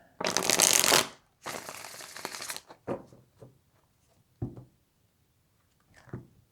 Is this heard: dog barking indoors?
no